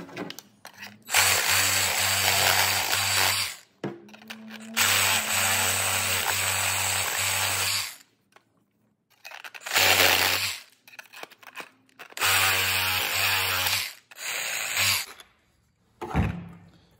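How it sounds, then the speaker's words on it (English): A small Sawzall reciprocating saw cuts parts off a DIY trail camera lockbox in four loud, close bursts of rapid buzzing strokes separated by short pauses, followed by a final brief clatter. "I just use this little Sawzall and they come off pretty darn easy"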